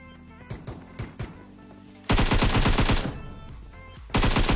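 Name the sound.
gunfire in the video game PUBG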